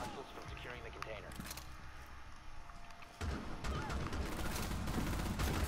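Rapid bursts of gunfire from the Rainbow Six video game erupt over busy background noise, growing louder and denser partway through, while players keep talking over the shooting.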